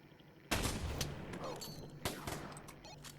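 A Barrett .50 cal sniper rifle fires in a VR shooter: two sharp, booming shots about a second and a half apart, each trailing off in a rolling echo.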